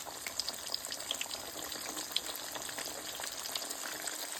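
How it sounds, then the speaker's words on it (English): Shrimp fry in hot oil for a bang bang shrimp dish, giving a continuous soft sizzling hiss with scattered faint pops, fairly quiet and steady, with no one talking. "now we'll go ahead and let them shrimp fry"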